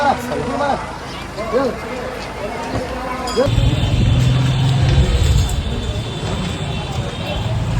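A car sets off on the road home from a temple visit. Cabin and engine rumble rises partway through and stays steady while people chat in the background.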